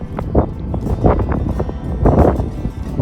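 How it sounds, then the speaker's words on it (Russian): Gusty wind buffets the microphone in rough, rumbling bursts, loud and close, with no voices. "Ну а если все же рискнете выйти, то ждите ветра."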